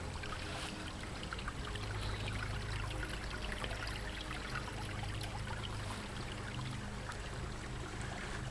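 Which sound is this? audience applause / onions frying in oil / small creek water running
small creek water running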